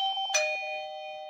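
A Eufy video doorbell's home base chime rings out indoors, a clear electronic ding with sustained bright tones that hang and slowly fade, alone without talk.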